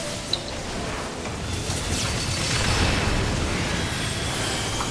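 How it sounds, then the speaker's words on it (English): A rumbling explosion hits the player during a Final Fantasy XIV raid fight, a loud, broad roar swelling and holding for several seconds after a small pop, with no voices. "I definitely got hit by the explosion"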